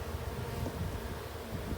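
Honey bees hum in a dense, continuous drone around a hive during an August swarm, a steady close buzz with no pauses and no voices.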